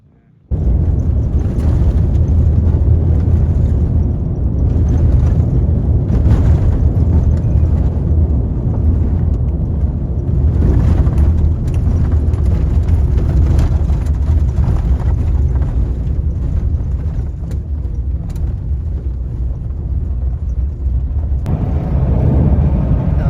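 Car driving across the Karakum Desert in Turkmenistan, a loud continuous road rumble and wind roar from inside the vehicle that starts abruptly and holds steady throughout.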